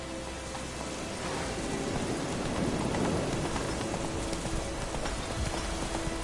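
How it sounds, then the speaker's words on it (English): Steady heavy rain hisses continuously in a video game, likely The Witcher, with a low rumble of thunder swelling in the middle before fading back under the downpour. "Let it rain."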